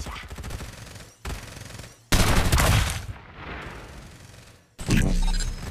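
Bursts of automatic gunfire from the video game Farlight 84, loud rapid volleys broken by short gaps, with a heavy sustained stretch of fire in the middle and another burst at the end.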